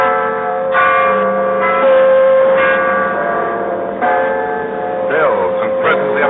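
Church bells peal repeatedly from some distance as a radio drama sound effect set on an open hillside, with steady overlapping tolls sustaining through the scene alongside faint background ambience.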